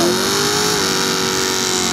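A Nissan Bluebird fitted with a 1UZFE 4-litre twin-cam engine revs at drag races, a loud sustained engine note that rises and then holds steady over continuous roar, with no talk.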